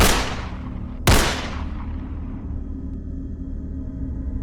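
Two sharp gunshots, one at the start and a second about a second later, each followed by a long rumbling echo fading into steady low background noise.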